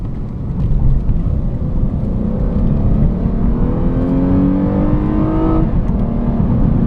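A 2015 Lexus RC350 F Sport engine pulls hard from inside the car, revving steadily higher through a gear and then dropping pitch at the upshift, loud and continuous with no talk over it.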